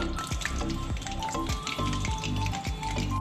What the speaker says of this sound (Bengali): বাকি পকোড়াগুলোও কিন্তু আমি ঠিক একই রকমভাবে ফ্রাই করে নিচ্ছি, একদমই লো ফ্লেমে